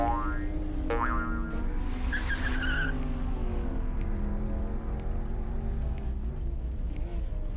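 GT4 race cars in the Automobilista 2 sim racing game sweep past on a downhill stretch of track, a steady engine roar with rising and falling passes and brief tyre squeal throughout.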